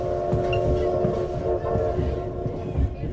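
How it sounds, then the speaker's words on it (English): A train rolls along rails with a steady, dense rumble and a sustained tonal hum, continuous and fairly loud throughout without a break. "the sound of the train lulled him to sleep"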